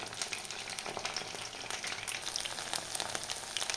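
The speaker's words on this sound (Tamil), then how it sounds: "மீதி இருக்கிறதும் அதே மாதிரி ஒன்று ஒன்றா போட்டு எண்ணெயில் பொறிச்சு எடுத்துக்கலாம்" Chicken kebab pieces deep-fry in oil with a soft, continuous crackle and popping bubbles, fairly faint and uninterrupted by speech.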